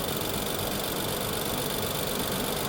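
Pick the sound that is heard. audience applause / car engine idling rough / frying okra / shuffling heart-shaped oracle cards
car engine idling rough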